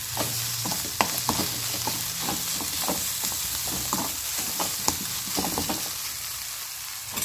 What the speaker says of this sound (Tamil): இப்போ இது எல்லாத்தையும் இந்த சிக்கனோட சேர்த்து நல்லா வதக்கி விட்டுக்குவோம்.